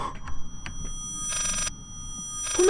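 A telephone rings in the Layers of Fear horror game, two short ring bursts following a few faint clicks and taps, moderately loud and with no talking.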